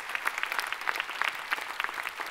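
Audience applause at a New Year greetings ceremony, a steady patter of many hands clapping at moderate volume, continuous through the moment with no voices over it.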